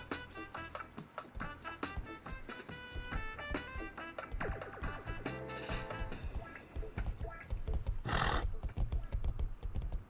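A horse in the console version of Rust whinnies loudly near the end while its hooves clip-clop in a quick, steady rhythm throughout, close and clear.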